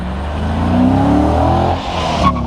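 A 2014 Dodge Challenger engine revs up with a deep, throaty rumble, rising and holding before easing off, close and loud.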